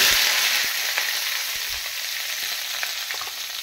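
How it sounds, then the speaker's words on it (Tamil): Black pepper frying in hot oil for a vegetable chutney, a loud close sizzle with scattered small crackles and pops throughout and no talk. "மிளகு வெடிக்கும்"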